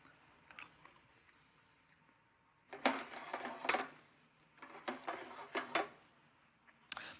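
Close chewing of a spoonful of vegetable sauce with tender onions and tomatoes, a few soft wet bites after a quiet pause, with no talk.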